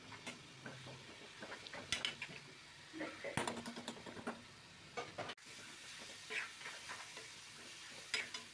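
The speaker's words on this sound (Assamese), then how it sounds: "এতিয়া শাকখিনিও অকণমান সময় ভাজি ল'ম" Taro greens frying in a pan over a low sizzle, with irregular scraping and clinking as a spoon or hand stirs them, the bursts of clatter coming close and unevenly over several seconds.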